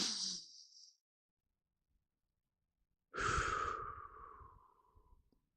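Two deep breaths during a sophrology relaxation session, a short exhale trailing off, then after a pause a longer, fuller breath out that fades slowly, close and alone.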